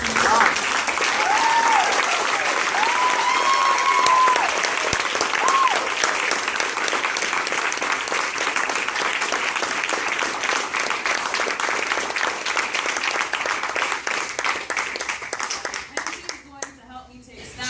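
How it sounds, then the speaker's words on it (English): Sustained audience applause closing a panel at a community anniversary homecoming event, dense clapping from many hands filling the room at a steady level, with a few voices and whoops over it before it thins out at the end. "So I want to give a round of applause for Phil."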